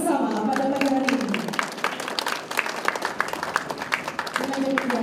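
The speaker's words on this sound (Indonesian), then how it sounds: "beri tepuk tangan yang meriah untuk penandatanganan kontrak bersama pada pagi hari ini" A room full of people claps for a joint contract signing, a dense patter of applause that follows a voice speaking over the start and returns briefly at the end.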